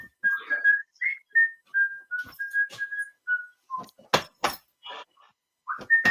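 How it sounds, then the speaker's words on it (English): Someone whistles a short melodic tune, a string of clear notes, followed by a few clinking, clattering sounds nearby. "You recognize that song I'm whistling there?"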